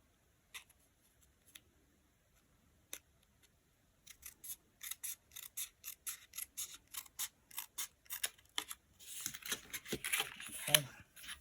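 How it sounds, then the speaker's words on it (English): Scissors snip steadily through card stock, first a few sparse, quiet cuts, then a quick run of crisp, close snips building into a faster, louder rasping burst of trimming near the end. "I'm just going to trim just a slither off from here."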